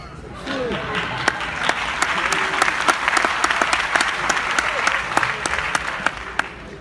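An audience at a stand-up comedy show claps steadily for several seconds, the crowd's applause building quickly while a few sharp individual claps stand out near the microphone and voices murmur underneath.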